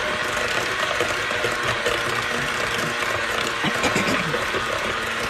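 Cordless Pampered Chef Flex Plus stirrer turning chicken bone stock in a multi cooker, giving a steady whirring mechanical rattle with clicking gear-like ticks that runs continuously and close by.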